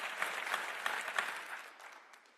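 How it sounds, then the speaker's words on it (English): Applause from the audience at a Turning Point campus tour event, a short burst of dense clapping that fades away over about two seconds. "give the Turning Point crew a round of applause"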